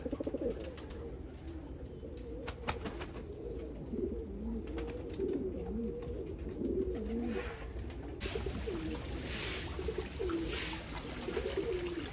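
Pet pigeons, including chocolate-coloured birds, coo in soft repeated warbling calls close by, a steady low murmur from several birds over a quiet hum.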